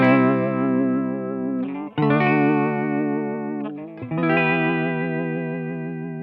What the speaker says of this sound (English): I'll turn it up to its full with a bit more speed and volume, and you'll hear a fairly crazy vibrato.